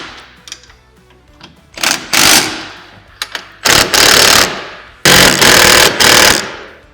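Bracket bolts on a Honda Talon cage being tightened with a powered socket tool, several loud rattling bursts of a few seconds each, close by with short pauses between them.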